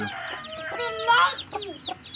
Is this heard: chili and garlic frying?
no